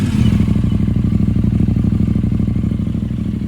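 A KTM 990 motorcycle with a Termignoni slip-on exhaust, baffle removed, revs steadily and loudly up close, its deep pulsing exhaust note holding throughout with no voices.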